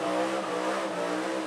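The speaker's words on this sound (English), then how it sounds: "Huge, huge revs." A small-block Ford V8 in an XC Falcon ute revs hard at a burnout competition and holds at high pitch, a loud sustained roar with a slight squeal.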